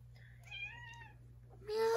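A kitten meows repeatedly while its nails are being clipped, giving a few drawn-out, wavering cries up close, with quiet background hum and a louder, sharper sound at the end.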